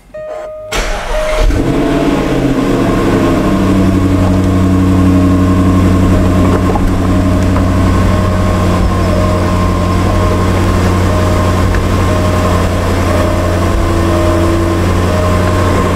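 A convertible car's engine starts and settles into a steady, loud idle that runs unbroken and close by, with no talking over it.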